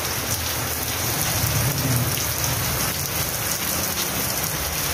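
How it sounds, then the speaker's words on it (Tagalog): Steady outdoor rain falling during a pechay seed-sowing session in a garden with pots, a dense, even hiss of drops on surfaces lasting throughout with no talk. "Ayan po, umuulan-ulan."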